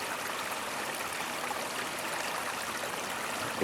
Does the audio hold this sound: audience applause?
no